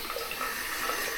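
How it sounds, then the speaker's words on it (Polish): Cold water runs from a tap during a wet shave in a barbershop setting. A steady, close hiss of flowing water fills the whole short moment without talk. "Zimna woda"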